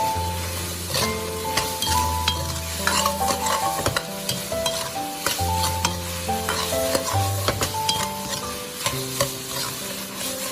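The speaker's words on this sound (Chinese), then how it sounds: "再快速的翻炒，将调料化开" Chicken feet with light and dark soy sauce, oyster sauce and salt are stir-fried quickly in a wok, with scraping and a soft sizzle running steadily under background music.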